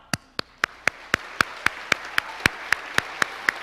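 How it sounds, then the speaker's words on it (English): Clapping at a live show comes as a steady, evenly spaced beat of sharp single claps, about four per second, crisp and close with little crowd noise behind it. "I thought it would be nice to start with a little round of applause"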